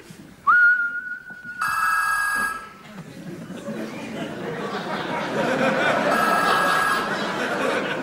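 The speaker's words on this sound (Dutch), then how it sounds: "geeft de sleutelhanger, wanneer ik fluit, een signaal af aan de telefoon die vervolgens overgaat" A sharp whistle note triggers a whistle-activated keychain, followed by a loud electronic telephone ring with bright harmonic tones, then a second burst of ringing over background chatter on stage.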